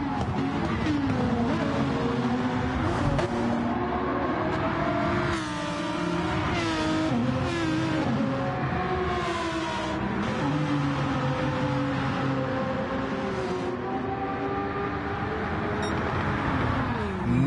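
Race car engines in an eDTM sim racing lobby at Fuji, several cars battling closely for second place, including a Lamborghini; loud, continuous overlapping engine drones with rising and falling revs, gear shifts and pitch sweeps throughout.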